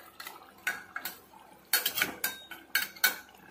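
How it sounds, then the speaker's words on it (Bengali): Potatoes being sautéed with mutton curry in a pan, with metal utensil scrapes and clinks against the cookware coming in irregular bursts, fairly close and moderately loud, no talking. "এবার আমি আলুটা দিয়েও বেশ ভালো করে একটুখানি কষিয়ে"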